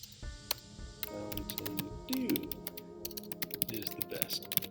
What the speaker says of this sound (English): I would just start typing up some stuff.